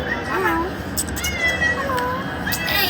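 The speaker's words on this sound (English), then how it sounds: "See, the same meow is coming right now." A stray cat meows several times, drawn-out rising and falling cries that are moderately close, over a noisy background with a person talking.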